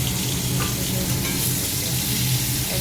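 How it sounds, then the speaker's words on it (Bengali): Small crabs fry in a hot pan with a steady, close, loud sizzle that runs unbroken with no talking. "কাঁকড়গুলো দিয়ে দিয়েছি, একবারেই দিয়ে দিয়েছি"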